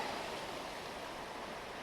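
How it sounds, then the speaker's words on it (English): Running water pours steadily from a tap as a freshly dug old silver coin is rinsed, a close, even rushing wash with no other sounds. "Let's go and give it a rinse in the wash here."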